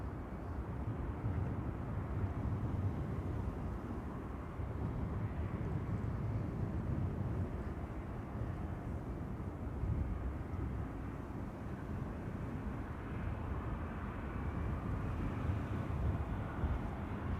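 A Cathay Pacific Cargo Boeing 747 on a runway at Amsterdam Schiphol Airport, a steady deep engine roar that holds at an even level for the whole stretch, distant and unbroken, with no voices.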